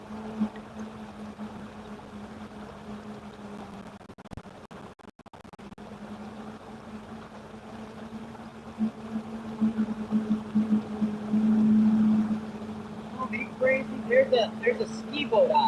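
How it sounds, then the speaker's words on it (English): A small ski boat motors across open water in the distance, its steady engine drone holding throughout beneath someone speaking nearby. "There's a ski boat out here."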